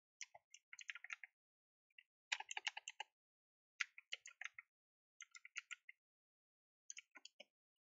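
Quick bursts of typing on a computer keyboard, crisp close key clicks in short clusters separated by pauses, in a quiet room with no talking.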